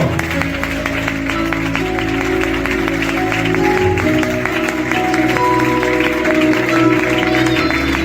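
A congregation in a church in Vigo claps over sustained worship music, the hand claps forming a dense, fairly loud patter that continues steadily throughout.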